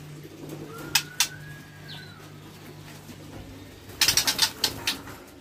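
A caged female white-rumped shama (murai batu) moves about, with a couple of wing flutters, then a quick burst of flapping and rustling, alongside a faint bird call and a soft background hum.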